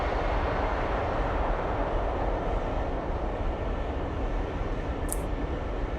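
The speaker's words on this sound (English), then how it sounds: "let's do a quick cheeky flyby" A UPS MD-11 cargo jet passing low in Microsoft Flight Simulator 2024, a constant heavy engine roar and rumble, loud and steady with no voices.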